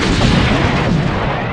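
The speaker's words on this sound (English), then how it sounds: "The explosion destabilized this portion of the asteroid field." A sci-fi explosion in an asteroid field roars as a loud, dense, broadband rumble that fills the whole stretch, with no voices over it.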